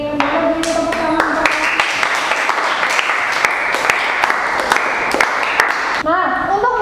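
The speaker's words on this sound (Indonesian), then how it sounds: "Boleh beri tepuk tangan." A classroom of students claps for a classmate, a dense sustained patter of hands lasting several seconds at steady loudness, with a few louder claps standing out before it stops near the end and a voice follows.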